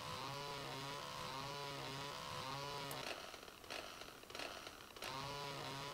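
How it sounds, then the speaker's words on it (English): A chainsaw shreds the desktop in the PC game Desktop Destroyer, a loud steady buzzing whine that breaks into choppy cutting bursts midway before resuming its full drone. "Chainsaw everything away on screen."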